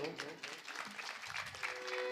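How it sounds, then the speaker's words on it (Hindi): Audience applause at an outdoor Ramlila staging of the Kevat dialogue in Shivni Dera, a steady wash of clapping running through the moment with some voices mixed in. "एक बार तालियां बजाइए थोड़ा सब लोग"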